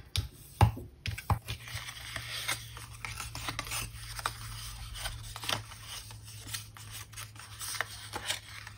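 Scissors snip through paper card for a Christmas tree card, a run of crisp, irregular cutting clicks and rustles, close and quiet, with no talking.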